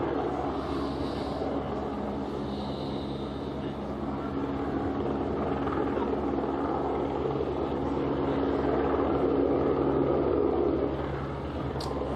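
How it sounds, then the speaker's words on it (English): A low, continuous rotor rumble from a news helicopter hovering overhead drones for the whole stretch, steady and fairly loud, with a faint mechanical whine above it. "we've got a Channel 9 chopper right above us"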